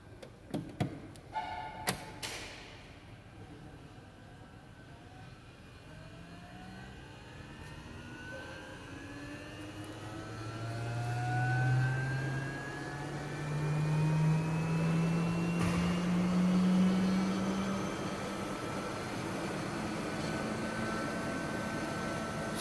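A laboratory centrifuge spins tubes up to 13,000 RPM, a rising whine that climbs steadily in pitch after a few clicks at the start, then settles into a loud, smooth high-speed hum, close and alone.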